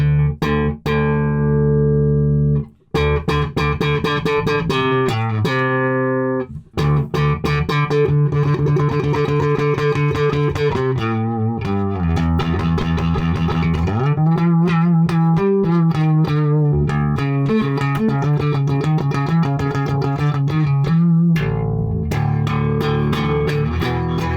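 Heavily driven electric bass through a distorted Trace Elliot ELF micro bass amp bottoming out at high gain, thick saturated notes with a compressed, clipped edge, loud and continuous for most of the stretch.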